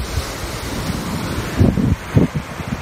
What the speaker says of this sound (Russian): Волны очень хорошие.